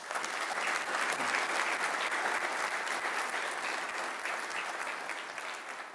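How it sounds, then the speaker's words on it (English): A crowd at a State Bar breakfast meeting claps steadily and warmly, dense applause sustained throughout without pause. "let's give him a round of applause"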